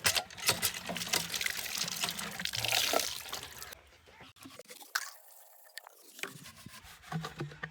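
Water poured into chicks' drinking bottles on a cold day, a broad splashing pour that runs for several seconds, breaks off, then resumes more faintly with small drips and trickles, close to the listener.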